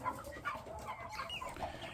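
Mixed-breed young chickens, including Rhode Island and naked-neck New Hampshire birds, cluck and murmur steadily in a pen, several soft overlapping calls in a continuous low chatter.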